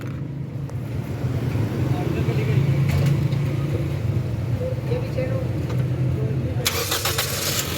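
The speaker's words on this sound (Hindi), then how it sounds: "ये जी गाड़ी स्टार्ट हो गई है," A Toyota GLi car engine, just repaired after a blown fuse caused a misfire and no-start, cranks and catches, then runs with a steady rumbling idle nearby while someone talks over it.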